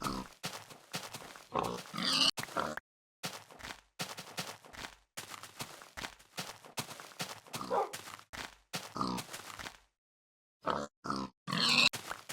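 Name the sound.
pigs grunting in a video game (Minecraft)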